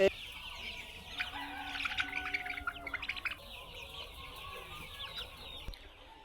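Young layer pullet chickens cluck and chirp in a poultry shed, a busy cluster of overlapping calls in the middle with a softer steady background of many birds.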